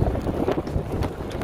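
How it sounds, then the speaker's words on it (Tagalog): Strong winter wind gusts roughly across the microphone in a steady, buffeting rush, close and loud, with no voices over it. "Grabe ang hangin"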